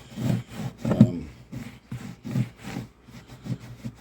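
Linseed oil is rubbed onto a guitar's wooden body with a cloth, giving soft, rhythmic rubbing strokes close by, about a dozen in quick succession.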